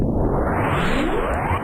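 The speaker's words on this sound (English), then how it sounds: "Now, we have this sound from Super Metroid. It's the sound of a power bomb." Power bomb explosion effect from the SNES game Super Metroid, a loud, continuous broadband roar with a rising sweeping tone that holds steady for under two seconds before cutting off, heard alone.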